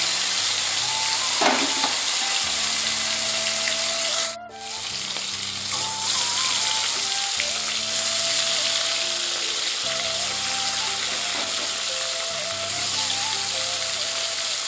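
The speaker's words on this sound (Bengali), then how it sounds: "দুবারে হয়ে যাবে মাছগুলো ভাজা" Fish pieces rubbed with salt and turmeric fry in hot oil in a village kitchen, a loud continuous sizzle and crackle with a brief dip midway, no voices.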